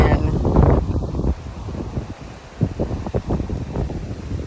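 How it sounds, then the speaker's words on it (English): Strong wind of about 20 to 25 mph buffets the microphone outdoors beside a canal, with rough gusty rumbles and some rustling, while a person talks intermittently through it. "If it wasn't so windy"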